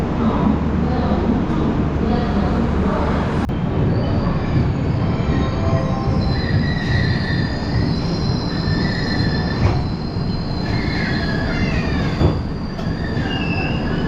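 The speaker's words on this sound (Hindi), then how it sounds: "हमने का ट्रेन खुलल, लेकिन बुझाता कि ब्रेक लगल बा" A Dibrugarh Rajdhani Express passenger train rolls along the rails with a loud, steady rumble heard from on board, and high wheel squeals and metallic screeches rise over it midway.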